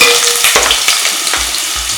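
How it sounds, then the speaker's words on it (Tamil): Minced garlic and ginger sauté in hot oil in a pan, giving a steady sizzle broken by sharp scrapes and clatters as a utensil stirs, close and fairly loud, with no talking. "இது முதல்ல கொஞ்சம் இப்படி வதக்கணும்."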